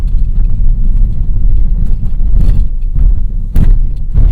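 Inside a 2025 Kia K5 GT rolling over road bumps, a deep continuous road rumble fills the cabin, punctuated by soft thuds and knocks as the suspension absorbs each bump, close and heavy.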